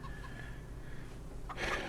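A few soft clucks from video game chickens over a low steady background, fairly quiet, ending in a brief brighter burst of noise.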